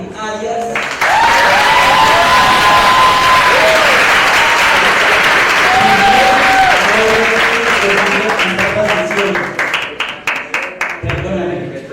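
An audience at a panel discussion on youth journalism in television and social media gives professor David Arias a loud, full round of applause that rises sharply, holds steady, then breaks into scattered claps, with cheers and voices mixed in.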